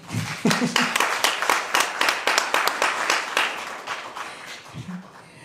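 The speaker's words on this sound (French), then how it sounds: "Franchement, applaudissez pour vous-même, s'il vous plaît." Audience at the JMCA Sevran 2020 ceremony applauding themselves, a dense burst of clapping from a crowded hall that swells early, then gradually thins and fades, with a brief voice near the end.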